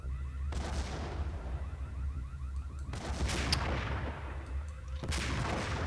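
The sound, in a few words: grenade launcher fire in the video game Max Payne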